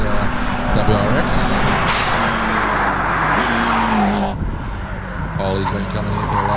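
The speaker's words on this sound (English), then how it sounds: "As we see Ryan Cole now, he's right at the top of his WRX." Ryan Cole's Subaru WRX rally car at a hillclimb screams loudly through rising and falling gear changes, with a brief tyre squeal, and commentary runs over it.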